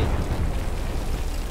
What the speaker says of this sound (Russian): Ух ты, а чем ты стреляешь? Такие прикольные выстрелы.